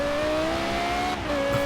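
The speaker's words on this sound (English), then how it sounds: "The game is still not playing the LFA engine note for me, so hopefully you guys can hear it in its full glory" Lexus LFA engine in Forza Horizon 3, a steady high-pitched V10 wail with a smooth rising tone and a brief dip before continuing, loud and alone.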